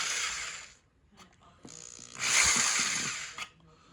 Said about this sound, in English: I'm just taking some pliers and I'm just kind of grinding it out.